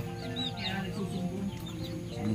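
Chickens in a backyard coop with newly hatched chicks cluck softly and repeatedly at close range, a short, steady stretch of low murmuring calls with no voices.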